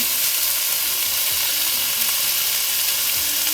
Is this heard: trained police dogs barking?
no